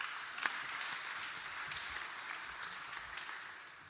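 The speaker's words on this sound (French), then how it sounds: "Applaudissez-les encore" Applause from a conference audience for a panel on international cooperation, a faint, steady patter of many hands clapping at a distance, with no voices over it.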